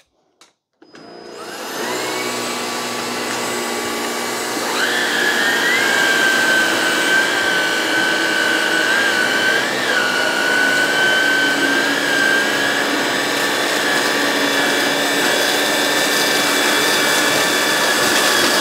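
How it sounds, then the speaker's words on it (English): Two Hoover ONEPWR cordless pet vacuums, an Evolve Pet and an Emerge Pet, running together on high, spinning up and settling into a loud, steady whine with a sustained high tone and motor hum, no voices. "I'm gonna put them both on high."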